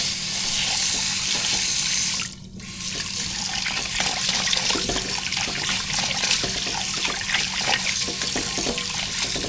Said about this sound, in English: give the rice a nice wash